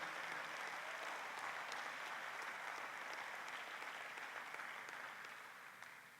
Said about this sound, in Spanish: Dele un aplauso bien fuerte al Señor